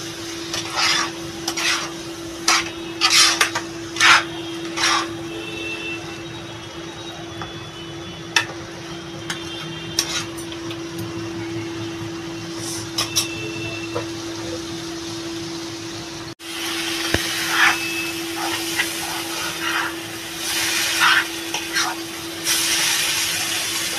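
Prawns stirred in a cooking pan for a Bengali chingri maach kosha, a spatula scraping and clattering in bursts over a steady hum, with continuous sizzling that grows louder midway.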